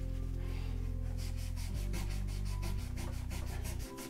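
Micro mesh abrasive rubs back and forth over a guitar fret during DIY fret polishing, making steady rhythmic close scrubbing strokes over a constant loud low hum, no speech.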